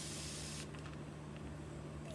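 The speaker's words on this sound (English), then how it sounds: "I got this new spray bottle from Wish" A cheap new plastic spray bottle puffs out a fine mist of water in one short, soft hiss at the start, followed by quiet room tone.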